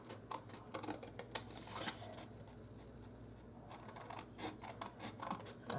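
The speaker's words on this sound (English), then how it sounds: "Now we're going to take our scissors and we're going to cut on the score marks." Scissors snipping along score marks in card for a handmade gift box, a run of quiet, close, crisp cuts in short bursts, then a pause, then a few more snips.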